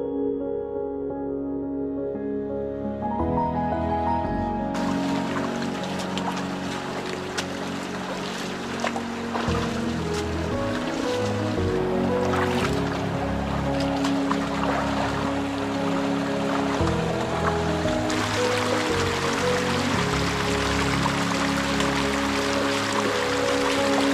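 Rivotico waterfall on the Rio Fucino stream, reached while water trekking, with steady broadband rushing water holding loud and continuous throughout, swelling slightly in brightness partway through.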